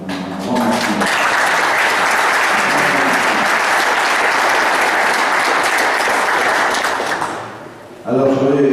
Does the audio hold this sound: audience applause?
yes